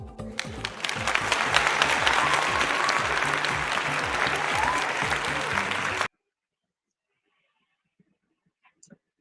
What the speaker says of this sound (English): with a round of applause, let's welcome Coach Onyekachi Okeke to the stage